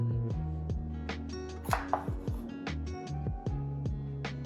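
A knife cuts through a jalapeno on a cutting board, about a dozen crisp taps in an uneven rhythm, close and clear, with a faint music bed underneath.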